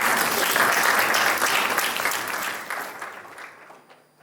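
Audience applause at a public speaking workshop: dense, loud clapping from a room full of people that holds steady, then thins out and fades away near the end.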